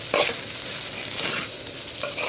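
Fried rice stirred and tossed in a hot pan over high heat, a steady close sizzle with scraping stir strokes recurring every second or so, no voices.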